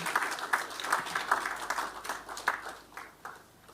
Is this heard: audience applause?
yes